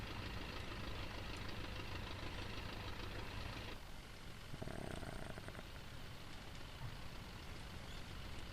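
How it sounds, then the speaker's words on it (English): A DeHavilland Chipmunk light aircraft engine idles after landing in FSX, a steady low rumbling drone with a faint rhythmic ticking, continuous and fairly quiet throughout. "just thinking about that engine just slowly ticking away"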